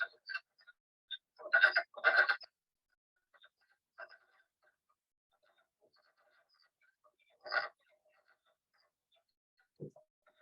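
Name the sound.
wood frogs calling in spring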